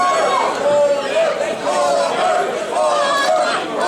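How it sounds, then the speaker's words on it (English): Crowd at an indie wrestling match rallying behind wrestler Matthew Palmer, heard as a lively chorus of voices chanting and cheering, with an announcer talking over the noise. "This crowd, they're trying to rally Palmer up"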